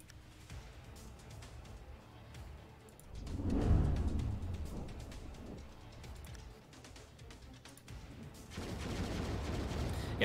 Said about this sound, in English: I got some forward guns here.